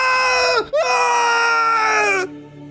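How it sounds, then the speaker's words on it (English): A creature screaming as a sound effect: a loud, shrill, harmonic shriek that breaks off briefly, then holds a long sustained wail before cutting out. "It begins to speak. And by speak, I mean scream. It starts by screaming."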